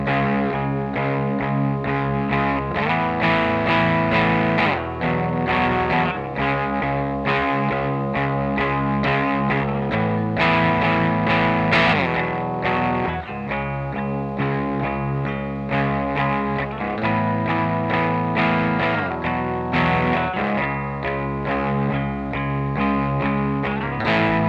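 Loud, heavily distorted electric guitar chugging through the verse riff of a song, thick and continuous, with effects adding a wide shimmer.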